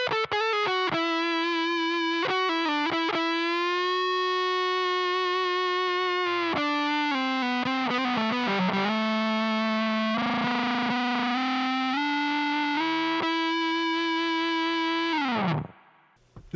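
Heavily distorted electric guitar through a fuzz pedal plays sustained fuzzy notes and bends, thick and buzzy, ending with a downward pitch dive and abrupt cutoff.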